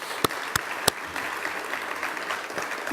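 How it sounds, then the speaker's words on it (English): Audience applause at an awards-style event honoring a hospital's ranking, a steady bed of clapping with a few sharp, loud individual claps standing out near the start. "That deserves a round of applause."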